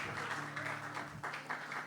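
A church youth-service audience gives a preacher a brief round of clapping, steady and moderately loud throughout, with a faint tonal hum beneath.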